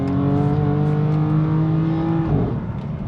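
A BMW M4 CS engine revs hard and holds high for a long, loud stretch, then drops off sharply near the end, heard up close with no talking.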